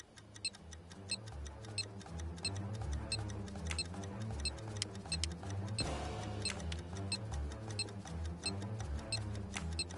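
A bomb ticks steadily in an Agatha Christie Murder on the Orient Express video game, sharp regular ticks sounding over a dense bed of game music, with a brief noisy swell around the middle and no voices.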